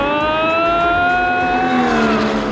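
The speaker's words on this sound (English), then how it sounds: "It is now Kathy's turn to take out the Porsche GT4. Here comes Kathy racing down the track." A Porsche GT4 racing down a track, its engine screaming loud and close with a steady high-revving whine that climbs and shifts pitch as it passes.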